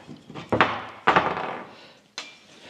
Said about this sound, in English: Set the clip with the chisel.